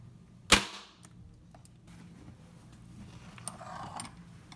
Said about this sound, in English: By having this staple gun flat, they're actually going all the way in.